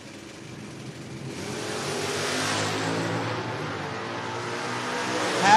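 Camaro and Nova drag race cars launching off the line at Door Wars, a steady loud engine roar building toward a sharper rev at the end, with crowd and track ambience beneath.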